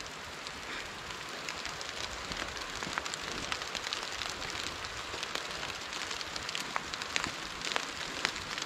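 An outdoor campfire burns in winter with fruit tea on the go, giving a steady soft hiss broken by frequent small crackles and pops, close by and fairly quiet, with no talking.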